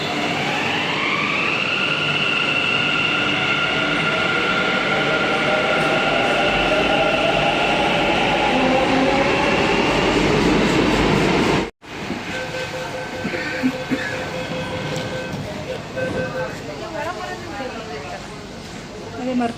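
A Bengaluru metro train pulls into the station with a long electric whine that glides in pitch over rolling wheel rumble. After a brief cut, the rolling noise continues close by, with a voice speaking over it.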